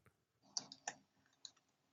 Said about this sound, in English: Who's typing faster?